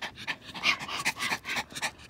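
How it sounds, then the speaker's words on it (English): A puppy pants rapidly and close up, quick breathy huffs repeating in an even rhythm for a couple of seconds with no talking. "I'm getting licked up, the puppy."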